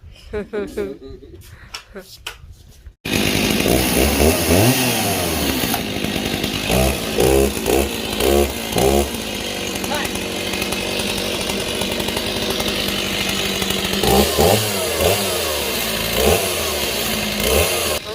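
After a few seconds of quieter sounds, a chainsaw roars to life and runs loudly, its pitch rising and falling with repeated revs while people talk over it.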